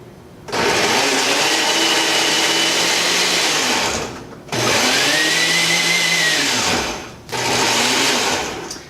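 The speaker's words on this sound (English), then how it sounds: "I am ready to blend." An Oster blender whirs loudly while blending keto pancake batter, running in three separate bursts with a brief pause between each, with no talking.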